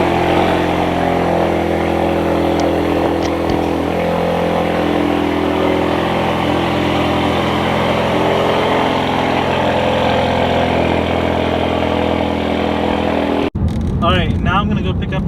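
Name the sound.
car cold start with aftermarket exhaust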